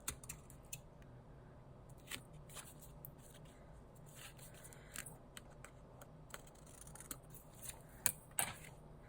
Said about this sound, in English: we'll go ahead and trim all the excess off the edges of our card